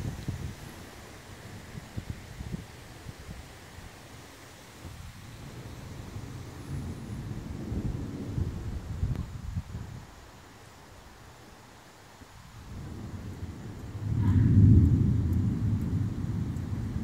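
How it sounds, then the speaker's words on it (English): Low, rolling thunder from an electrical storm with lightning overhead, swelling in several long rumbles and peaking loudest near the end, mixed with wind noise and no talk. "love a good electrical storm."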